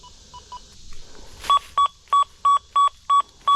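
An XP Deus 2 metal detector at an 1830s church site gives a target tone: a few faint beeps, then seven loud, evenly spaced electronic tone pulses rising over light background noise.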